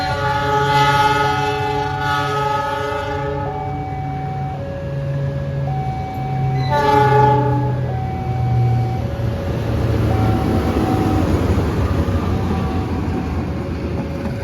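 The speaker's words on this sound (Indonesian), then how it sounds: "Dan ada langsiran rangkaian kereta api Parahyangan." Parahyangan passenger train cars being shunted at an Indonesian station, with sustained horn tones sounding in overlapping blasts over a constant rumble of rolling stock and wheel noise, loud and fairly near.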